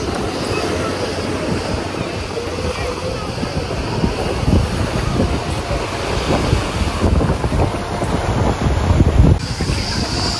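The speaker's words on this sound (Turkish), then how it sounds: "Bugün biraz rüzgar olduğundan dalgalı duruyor." Steady wind buffeting the microphone over a broad rushing wash of surf at a bay in Datça, Turkey, loud and continuous throughout with no voices.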